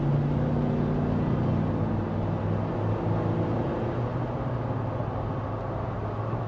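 A 2024 Jeep Wrangler Rubicon X accelerating, heard from inside as a steady low engine drone and road rumble that holds even throughout, with no talking.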